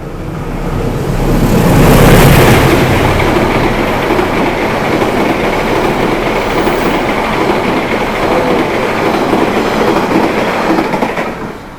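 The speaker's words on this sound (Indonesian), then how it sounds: "dari jalur 2 sepertinya ada kereta api yang melintas langsung" A Turangga passenger train runs straight through a station on track 2 without stopping, a loud continuous rumble and rattle of rolling wagons that swells early and holds steady throughout.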